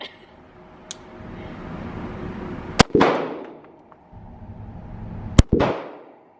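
A SIG handgun is fired twice at a range, each a sharp loud report with a ringing decay, separated by a few seconds over low background noise; a voice is faintly present.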